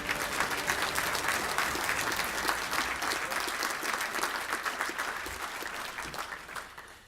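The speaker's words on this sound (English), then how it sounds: "another big round of applause for your high school players and coaches of the year" Sustained applause from a crowd at a football awards banquet, dense and steady clapping that holds for several seconds before slowly tapering.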